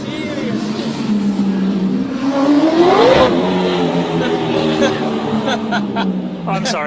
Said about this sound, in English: It's a V8 supercar engine.